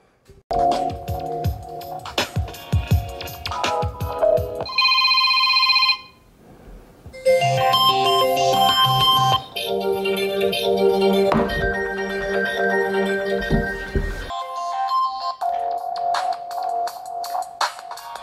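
A loud, bright ringtone plays from a OnePlus One phone's bottom speaker, a busy melodic tune with a brief pause of beeping tones partway through, filling the room without talk.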